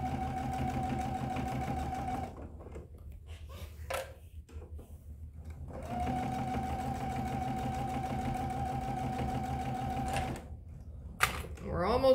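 A sewing machine stitches a quarter-inch seam in two steady, rapid bursts of whirring, separated by a pause and followed by a short shuffle of handling noise.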